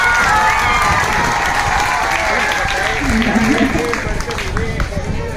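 Applause from an audience at a school event, a steady wash of clapping mixed with crowd noise and children's voices, loud and sustained throughout, with some talk beneath it.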